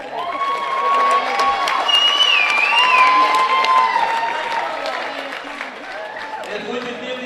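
Crowd in a high school gym applauding senior basketball players on senior night, steady clapping with cheers and children shouting, fading slightly near the end, with some talk underneath.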